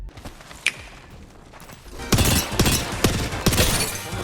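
Bursts of rapid gunfire crackle loudly in quick repeated volleys after a quieter opening with a sharp ping, from a multiplayer shooter video game firefight.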